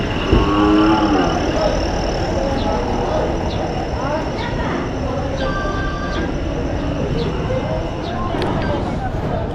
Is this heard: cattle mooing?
yes